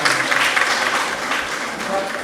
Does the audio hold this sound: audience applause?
yes